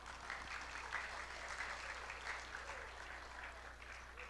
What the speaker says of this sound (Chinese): 我们拍手欢迎他们出场